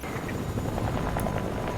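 A helicopter in the video game Fortnite produces a steady, loud rotor drone with rough, fluttering texture that holds at an even level for the whole moment.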